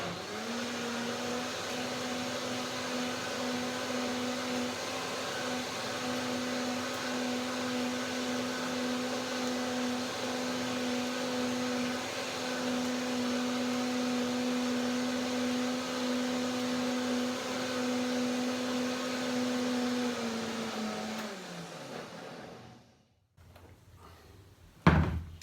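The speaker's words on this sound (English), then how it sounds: "So one more blender dance." A blender whirring steadily while mixing chocolate persimmon pudding, a loud, even motor drone that holds for about twenty seconds, then spins down and stops, with a clunk at the end.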